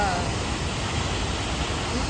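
An artificial waterfall at a seaside resort in Turkey splashes with a steady, loud, dense rushing roar that fills the whole moment without a break.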